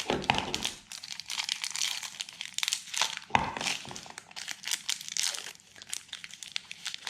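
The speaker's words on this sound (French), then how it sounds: "je vais ouvrir mes petits oursons" A plastic packet of marshmallow bears is torn open and handled, giving close, continuous crinkling and crackling with one sharper rip partway through and no voices.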